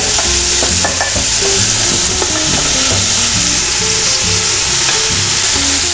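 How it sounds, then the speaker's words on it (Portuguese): Beef ribs sear and fry in a pan for vaca atolada, with a steady loud sizzle and crackle throughout and intermittent scraping and stirring knocks, with no talk. "enquanto a gente termina de fritar essa última parte, tem que selar, ficar bem tostadinho"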